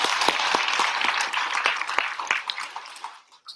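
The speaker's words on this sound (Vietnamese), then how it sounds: "Dành một tràng pháo tay cho anh đi ạ." An audience at a product training event breaks into loud, close applause, a dense burst of many hands that thins into scattered claps and fades out near the end.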